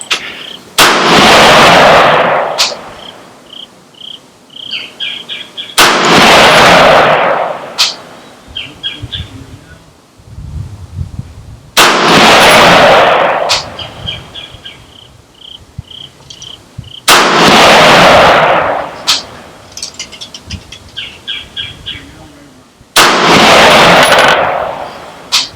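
Aero Precision DMR rifle shots at an outdoor range, five loud, sharp reports spaced roughly every five seconds, each followed by a short ringing decay, with faint insect chirping and small metallic clinks between shots.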